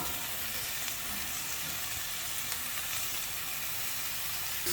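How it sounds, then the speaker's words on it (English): Vegetables sizzle steadily in a pan with leftover chicken juices, a continuous bright hiss close by with no talking. "It's sizzling."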